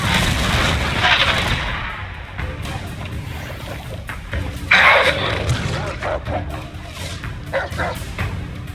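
A Confringo fire spell cast in the Hogwarts Legacy video game, heard as sharp explosive blasts over busy combat noise, with a strong burst near the start and another midway.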